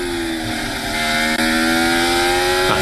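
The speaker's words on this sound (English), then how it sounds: "That's the sound of the Ferrari of Charles Leclerc" A Ferrari Formula 1 car's engine screams steadily during qualifying at the Qatar Grand Prix, a loud high-pitched continuous whine holding pitch with a brief dip midway, no voices.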